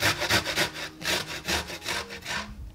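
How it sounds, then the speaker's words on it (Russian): Garlic is rubbed against a fine kitchen grater for the cheese filling of lazy chebureki, giving close, rhythmic rasping strokes, about a dozen quick back-and-forth scrapes in under three seconds. "Для нее тоже потрем сыр на мелкой терке. Сюда же потрем чеснок."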